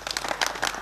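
A studio audience applauds at a televised election programme in Valjevo, a brief burst of dense, fast clapping from many hands, fairly close and steady.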